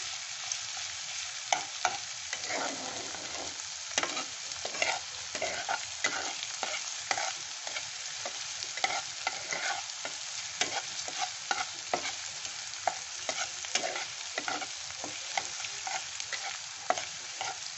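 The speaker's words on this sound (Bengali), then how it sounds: "রসুন যে ছিল সেটা একটুখানি ভাজা ভাজা করে গেছে" Garlic frying in hot oil with spices in a pan, a steady sizzle broken by regular stirring scrapes and clicks throughout, close and continuous with no talking.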